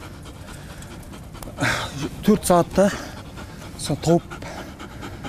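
A search and rescue dog pants in quick rhythmic bursts of breathy huffs, close by, while someone talks over and between them.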